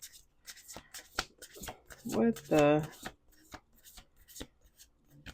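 Playing cards are shuffled twice in quick bursts during a card game, a riffle and a louder riffle close together, with a person talking briefly before and after.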